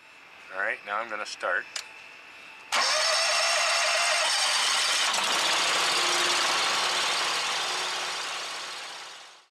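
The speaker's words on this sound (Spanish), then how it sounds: "Ponga el acelerador en la posición de la tortuga para dejar el motor en ralentí." A BigFoot BF300 plastics baler engine cranks with a few short bursts, then catches and runs steadily at idle with a bright, even drone that tapers off at the end.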